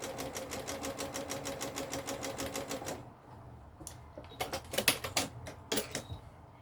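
A domestic sewing machine stitches a straight seam through quilting fabric for flying geese units, a fast steady needle chatter for about three seconds, then a pause and a few short uneven bursts of stitching, close and clear.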